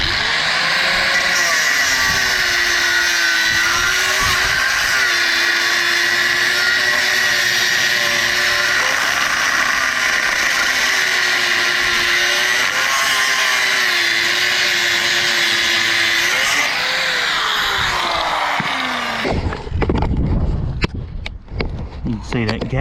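A cut-off wheel grinds through a burnt-out wood heater baffle plate, making a loud, sustained whining screech that wavers in pitch, then winds down into scattered clatter near the end.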